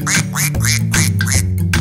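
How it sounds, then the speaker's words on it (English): A cartoonish duck quacking in a children's song, five loud, close quacks in a quick, even rhythm. "That's the sound a ducky makes. He goes quack as he swims away."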